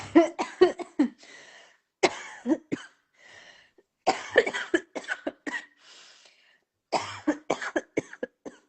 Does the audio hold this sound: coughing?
yes